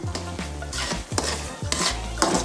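Grated coconut fries in a pan while being stirred, a close, continuous sizzle broken by repeated rhythmic scrapes and clinks of a spoon against the metal.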